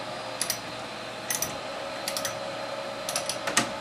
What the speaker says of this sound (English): Put your ratchet on there,